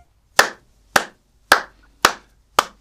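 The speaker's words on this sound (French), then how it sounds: "Vous savez pourquoi j'applaudis?" A man clapping his hands five times alone, each sharp, close clap evenly spaced about half a second apart with quiet in between.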